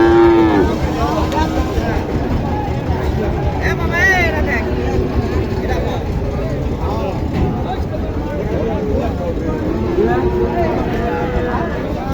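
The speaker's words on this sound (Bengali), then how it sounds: "এগুলি সব বকনা বাছুর।" Sahiwal and Friesian cross heifer calves moo at a busy cattle market, with a few loud, low bellows rising over constant crowd chatter and people talking nearby.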